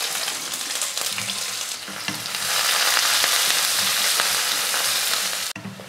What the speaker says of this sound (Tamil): வெங்காயம் ஓரளவுக்கு வதங்கிருச்சு.